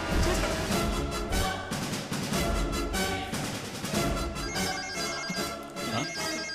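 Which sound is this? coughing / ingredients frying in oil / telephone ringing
telephone ringing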